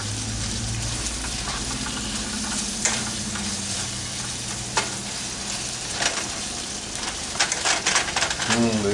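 Hamburger meat frying with onions and garlic in a pan makes a continuous close sizzle, with a low hum beneath, occasional scraping stirs and sharper spatters near the end.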